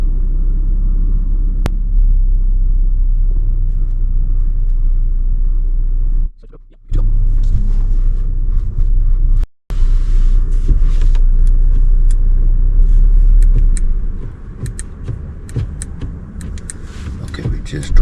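An Audi Q8 SUV with adaptive air suspension rolls down a driveway, its steady low engine and road rumble filling the cabin with two brief dropouts, then easing toward the end.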